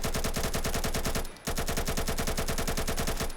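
Type 88 AK rifle firing in Roblox Phantom Forces, a loud, rapid automatic burst of evenly spaced shots that breaks off briefly near the middle and then resumes at the same steady rhythm.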